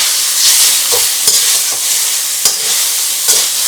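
Chicken chow mein noodles hiss and sizzle loudly in a very hot pan, a dense continuous roar broken by a few sharp scrapes and tosses of the spatula.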